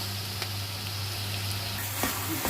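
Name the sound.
duck stir-fried with onions, peppers and spices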